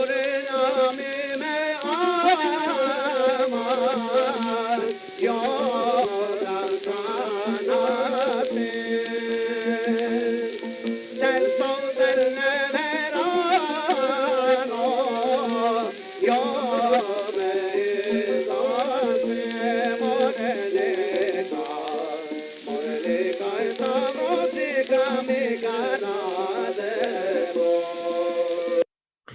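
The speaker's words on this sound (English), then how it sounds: "The oldest recordings of Jewish music that we have are these Ladino songs recorded around 1907 to 1912." Early-1900s Ladino songs, recorded between 1907 and 1912: a solo voice singing an ornamented melody with instruments behind it, heard through the hiss and crackle of an old recording, continuous throughout.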